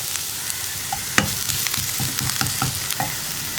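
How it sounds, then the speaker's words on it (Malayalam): Sliced onions sautéing with salt in a pan for a home-style tomato curry, a steady soft sizzle broken by sharp scraping strokes of a spoon stirring, close and alone without talk. "സവോള ഒന്ന് കുക്കായി കിട്ടണം നമുക്ക്. ആ രീതിയിൽ വഴറ്റിയെടുക്കുക."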